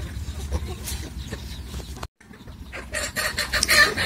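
Free-range chickens clucking and squawking close by while being fed a mix of papaya and feed, with a brief gap before livelier, louder calls.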